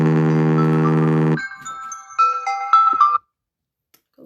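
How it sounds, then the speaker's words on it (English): An incoming call sets off a phone ringtone: a loud repeating buzzy tone, then a bright melodic chime sequence of several notes that stops abruptly, heard up close with no talking. "Got lots of phone calls coming through."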